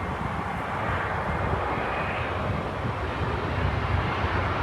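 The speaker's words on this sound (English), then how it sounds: "I actually think that's an A319" An Airbus A319 takes off at Heathrow at or near full throttle, a loud, continuous broadband engine roar that holds steady throughout with no voices.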